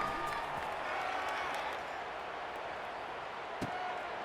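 Stadium crowd noise from a College Football 26 game between Utah and Kansas, a steady broad roar of a large crowd with scattered cheers and one sharp thump near the end, continuing without a break throughout.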